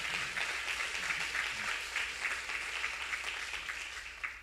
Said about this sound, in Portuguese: Quem aplaude o seu Deus aqui dentro?